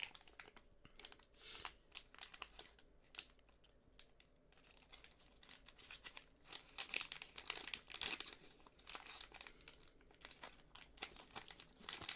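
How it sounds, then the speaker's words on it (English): Soft, close crinkling and crumpling of a plastic or paper material for ASMR, with irregular bursts of fine crackles that rise and fall over several seconds at a quiet level. "I'll give you some crinkle sounds."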